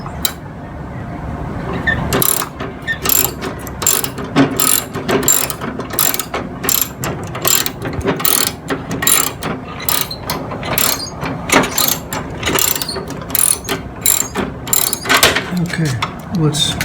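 Deck lift lever on a 25-inch-cut Snapper mower being tightened, a rapid series of loud ratcheting clicks in uneven bursts, close up and continuous across the clip.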